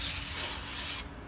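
A scoring tool drawn along cardstock gives a brief, quiet, close scratchy rub lasting about a second, then stops.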